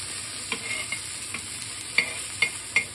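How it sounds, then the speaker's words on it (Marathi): Mackerel (bangda) frying in oil on a hot pan, giving a steady soft sizzle broken by several sharp crackles and spatters, with no one talking. "आणि आता आपण बांगडे फ्राय करायला घेऊ."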